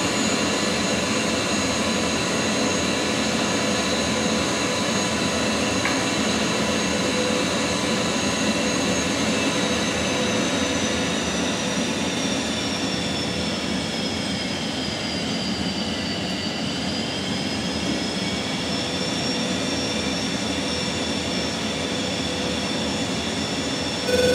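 F-16 jet fighter engine in a flight simulator with the throttle pulled fully back, a continuous loud whining roar with a high tone that sags and recovers midway, steady throughout with no talk.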